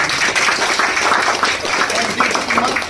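Applause from an audience at a product launch meeting, a loud, dense burst of clapping that carries on steadily, with some voices mixed in.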